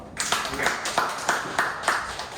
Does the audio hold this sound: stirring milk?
no